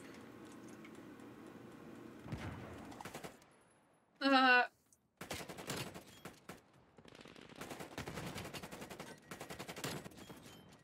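Gunfire from a 3-round burst rifle in a Call of Duty Hardpoint match, with bursts of shots and game effects scattered across the stretch, one sharp loud tonal blast near the middle, no talk.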